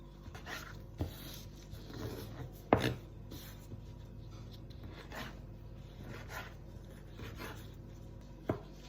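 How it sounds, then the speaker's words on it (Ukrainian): A knife cuts a tomato into cubes on a board, soft scraping and rubbing with a few sharper taps at irregular intervals, close by and without speech. "помідор. Також нарізаємо кубиками, серединку вирізаємо"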